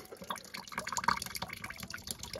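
Water trickles and drips from the cracked filling loop nut on a Potterton Gold boiler with a sludged heating system, a steady, fairly faint splashing flow with small drip accents close by and no talk.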